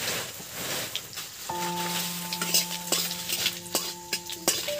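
Cumin seeds hit hot oil for ghugni and sizzle while a spoon stirs and scrapes the pan, a soft continuous crackle with clinks of utensil on metal and a faint tonal hum in the background.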